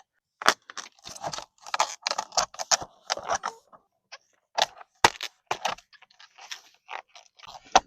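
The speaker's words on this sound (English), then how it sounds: "pull down as I'm pushing in, and it will snap like a zipper" A series of sharp plastic snaps and clicks, irregular and close by, as a replacement vinyl siding panel is pressed and locked into place bit by bit like a zipper.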